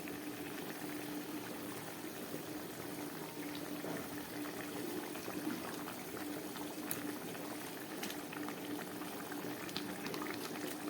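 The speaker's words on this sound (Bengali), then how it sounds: "ঝোলটা পুরো ফুটে উঠেছে" A rita tengra fish curry gravy bubbles at a full boil in a pan, with a steady, even simmering burble that runs the whole time, fairly quiet and close. No one speaks.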